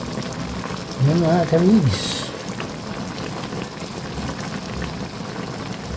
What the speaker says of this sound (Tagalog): lagyan na natin ng purong gata ang ating nilulutong tulingan